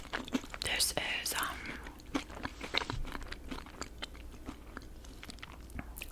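Someone bites and chews a Crumbl cinnamon toast crunch cookie close to the mic, giving crisp crunches in an irregular rhythm, with soft whispering at the start.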